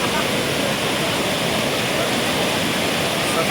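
Huai Chan waterfall in Khun Han, Sisaket, Thailand, running high and strong, pours as a loud, steady, unbroken roar of rushing water that fills the whole scene.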